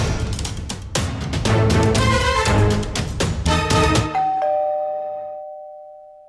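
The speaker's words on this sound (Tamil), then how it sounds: "காலிங் பெல் அடிக்குது" An electronic doorbell chime rings through a busy melodic passage, then a final sustained tone lingers and fades out alone.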